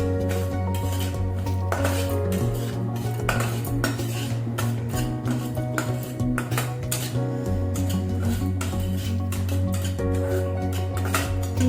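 Fine semolina dry-roasts in a pan over a medium flame, stirred with a steady run of metallic scrapes and taps against a droning background hum.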